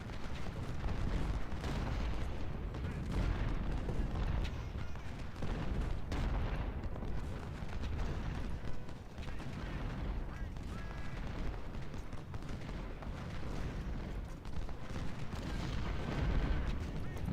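Musket volleys and artillery fire in the Ultimate General: Civil War video game, at the Battle of Fredericksburg: a dense, continuous rumble of gunfire and booming cannon that rolls without pause throughout.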